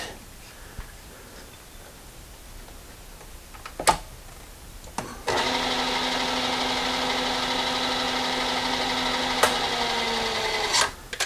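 An end mill on a milling machine cuts a part for a roller kit build, a steady whining drone that starts abruptly midway after a few sharp clicks and knocks, then holds at an even level until it cuts off.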